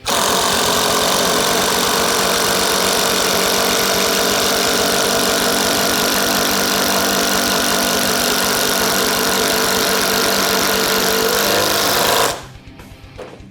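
A DeWALT DCF888 impact driver driving a 6-inch fastener, a loud continuous rapid hammering buzz held close for about twelve seconds before stopping abruptly, leaving a quiet tail.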